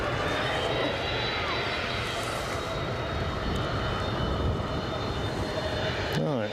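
A Ryanair airliner arrives at Edinburgh airport, its engine roar steady and broad, loud throughout under an outdoor wind rush, with brief speech near the end.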